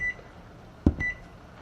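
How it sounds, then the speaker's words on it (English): A kitchen timer beside a pasta dish being cooked gives two short, thin beeps about a second apart, with a dull thud just before the second beep in a quiet room. "Hit your kitchen timer."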